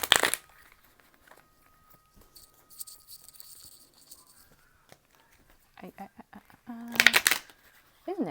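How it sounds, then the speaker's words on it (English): Psychic Tarot Oracle cards riffled and shuffled in bursts, with a sharp flurry at the start and another loud one near the end, quiet handling between and a few brief voice sounds. "Isn't it so satisfying when you hear this card shuffle?"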